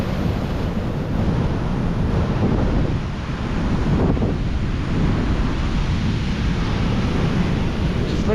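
Ocean waves wash over a rocky shore below the San Onofre bluffs, a constant loud rushing roar mixed with heavy wind buffeting close to the microphone.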